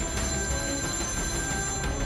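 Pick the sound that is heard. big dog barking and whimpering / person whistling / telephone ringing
telephone ringing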